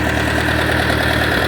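A Ford 660 tractor engine runs at a steady idle, loud and close, a continuous rumbling drone with a faint knocking pulse and no voices over it.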